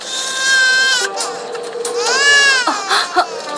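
A cartoon baby wailing in two long, loud, rising-and-falling cries close up, with a short break between them and a faint voice near the end.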